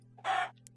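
A Minecraft cow gives a single short chicken cluck from a custom sound pack, a clean synthetic game sound over a low steady hum, followed by a faint tiny blip.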